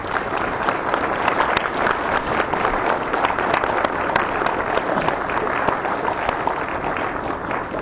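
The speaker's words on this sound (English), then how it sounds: "Let's have a big, warm round of applause for United States Congressman Preston Marty." A libertarian convention audience gives a congressman a big, warm round of applause, with dense, steady clapping and crowd noise filling the room throughout, loud and sustained with no pause.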